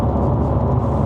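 Mercedes-Benz W212 E250 AMG Line engine holding a steady low drone as a light press on the accelerator prompts a downshift, heard from inside the cabin on a drive in Malaysia.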